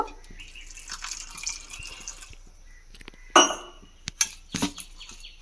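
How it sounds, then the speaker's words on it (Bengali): Water poured into soaked semolina batter mixed with yogurt, a quiet trickle followed by a few sharp splashes and drips close by in a bowl, with no voices. "তো তার আগে আমি আবারও এখানে একটু জল দিয়ে দেব।"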